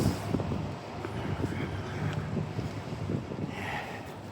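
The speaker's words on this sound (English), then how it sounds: "This wind is just cleaning the leaves off the trees" Fall wind gusting through downtown Halifax streets, a broad rushing buffet against the microphone with traffic-like rumble and occasional faint background sounds.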